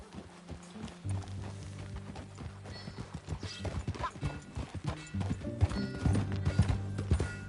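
Horse hooves clip-clop in a steady trotting rhythm in Red Dead Redemption, growing louder and closer, with occasional snorts and creaking tack.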